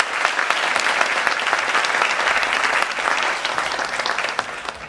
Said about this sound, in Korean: 지금 이 자리가 가능하게 이 큰 틀을 짜주신 우리 길원평 교수님께 다시 한번 큰 박수 쳐주십시오.